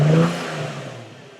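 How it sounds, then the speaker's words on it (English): A short, brief rev of an Infiniti G35 coupe engine that swells quickly and then fades to a softer hum, heard up close. "I'm going to rev it up just a little bit."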